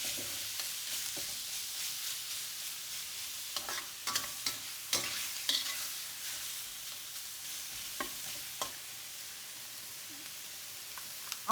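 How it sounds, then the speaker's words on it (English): Minced pork stir-frying in a hot oiled wok for Hakka Chinese home cooking, a steady close sizzle with scattered clicks and scrapes of stirring throughout, no talking. "After stir frying the minced pork for a few minutes, till it is like almost half done"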